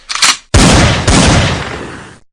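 Rifle gunfire sound effect: a short shot burst followed by two loud, sharp reports with long rolling decays, close and dominant with no talking.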